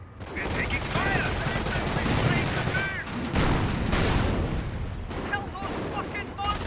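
Company of Heroes battle: bursts of machine-gun fire and rifle shots crackle rapidly alongside heavier booms, loud and dense throughout, with voices shouting over the combat.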